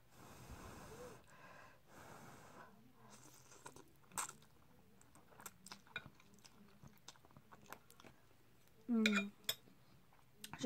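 Someone eats Buffalo Wild Wings chicken wings, Jamin Jalapeno and Mango Habanero flavors, with soft close chewing and biting, faint cutlery and dish clicks, and breathing, plus a louder burst near the end.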